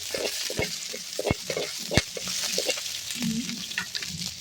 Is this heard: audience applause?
no